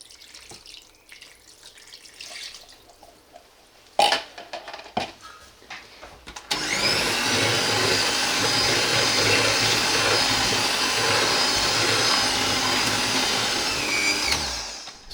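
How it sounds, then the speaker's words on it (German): After a few soft clicks and knocks, an electric hand mixer whirs into a loud, steady buzzing drone as it kneads dough of flour and soft butter, running continuously for several seconds before cutting off. "können wir das Ganze mit dem Mixer mal grob durchkneten"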